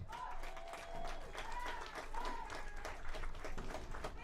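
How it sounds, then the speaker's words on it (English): Faint, distant applause from a crowd at a high school soccer game, a soft continuous patter of clapping with some murmuring voices. "give her a big round of applause"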